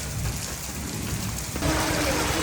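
Heavy rain pours steadily on a village road and market area, a dense, continuous hiss that thickens and grows louder partway through, with no voices.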